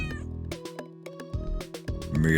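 Video game cat in a role-playing game meowing several times in quick succession, loud and close over a musical game background.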